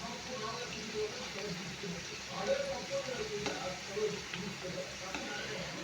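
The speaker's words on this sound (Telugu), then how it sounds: "ఓ పక్క కాస్త ఫ్రై అయినాక ఇంకో పక్కకు తిప్పుకుందాం." Boondi kajjikaya, maida-dough sweet pastries, frying in hot oil as they are turned over, giving a steady close crackling sizzle with brief scraping stirs throughout.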